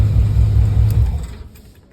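A 1987 Chevrolet Monte Carlo engine idles with a loud, close, low rumble that holds steady, then drops away toward the end.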